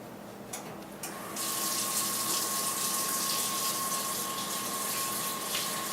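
Water runs steadily from a kitchen tap during handwashing before cooking, a close, even rushing stream that starts after a couple of soft clicks and continues alone to the end.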